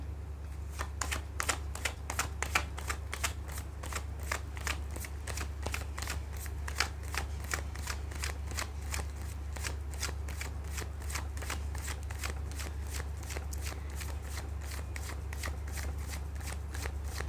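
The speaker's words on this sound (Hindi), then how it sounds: "मैं कर लेती हूँ कार्ड की शफलिंग।" Tarot cards shuffled in a long, steady riffle of quick crisp clicks at close range, running without pause over a low steady hum.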